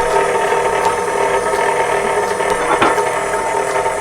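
A stand mixer running on low speed while mixing challah dough, a loud, steady mechanical whir and rattle of gears close by, continuous with a few small knocks.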